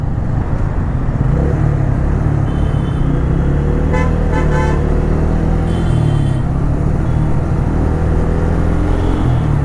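Road traffic rumbles steadily and loudly, with a couple of short car horn toots cutting through the dense engine noise.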